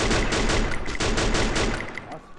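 Rapid bursts of gunfire in the video game Free Fire, loud and dense throughout, thinning out toward the end.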